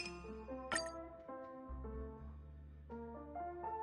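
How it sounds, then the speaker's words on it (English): Ice drops into a glass in Honkai Star Rail, with a couple of light, brief clinks over soft, sustained background music. "More ice."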